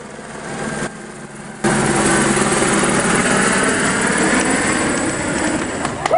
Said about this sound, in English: No need to panic, it's just a helicopter.